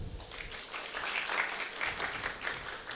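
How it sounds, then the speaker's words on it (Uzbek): A live comedy-show audience bursts into applause, dense rapid clapping that swells and holds steady, loud and close with no voices. "2025-yil unchalik yaxshi yil bo'lmadi men uchun deganlar bitta qarsak chalinglar."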